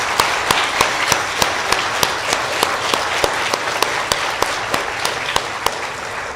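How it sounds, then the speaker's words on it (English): A congregation at a church service gives teachers and aides a round of applause, with steady sustained clapping from many hands, fairly loud and close, a few sharper individual claps standing out rhythmically throughout. "Let's give our teachers and aides a round of applause."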